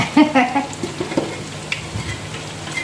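Food sizzles and crackles in hot oil in a wok, a steady frying hiss with stirring scrapes, while a voice speaks briefly at the start.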